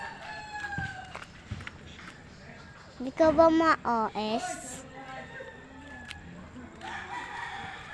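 A rooster crows in a short burst amid farmyard clucking, with people talking nearby throughout.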